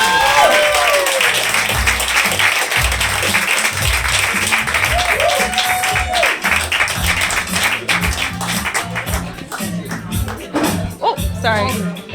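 A comedy club audience applauds a stand-up comedian with sustained, dense clapping and some cheers, while a voice speaks over the applause.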